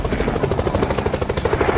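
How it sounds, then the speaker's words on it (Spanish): Helicopter in a Roblox zombie school escape game, a steady loud rotor chop with rapid rhythmic thumping throughout, close and continuous. "¡El helicóptero, el helicóptero!"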